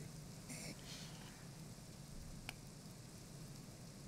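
Faint, steady rain patters over a swamp in a blocky Minecraft-style game world, a soft continuous hiss with one small tick partway through.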